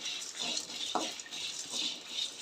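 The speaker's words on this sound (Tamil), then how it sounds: "இது எல்லாத்தையும் ரொம்ப ஸ்லோவில் வச்சு கொஞ்சம் லைட்டாக வறுத்து எடுத்துக்கோங்க." Dried chillies and a handful of curry leaves roasting slowly over very low heat in a pan, giving a soft, steady hiss with one brief utensil clink partway through and no talking.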